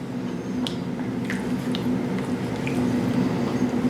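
Seafood gumbo is stirred in a pot as stock is mixed in, giving soft wet squishing and dripping sounds over a steady background hum, close and fairly quiet.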